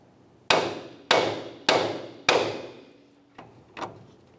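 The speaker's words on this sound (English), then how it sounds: "I'm going to hit along this area of the knuckle, trying to cause some vibration" A hammer striking the steering knuckle of a 2004-2015 Nissan Titan truck to free the upper ball joint: four loud, evenly spaced metallic clangs that ring out, then two lighter taps.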